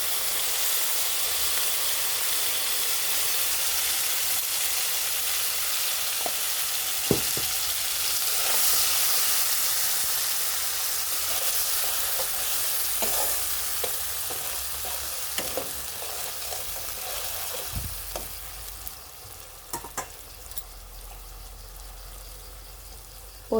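Ginger, garlic, black pepper and onion paste frying with browned onions for a soybean and potato curry, a loud continuous close sizzle with intermittent spoon clinks and scrapes growing busier toward the end.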